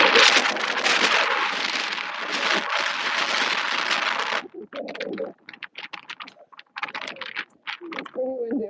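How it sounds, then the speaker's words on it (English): Strong wind buffets the microphone in a steady roar for several seconds, then breaks into intermittent gusts and rustling with a brief tonal sound near the end. "It's pretty windy."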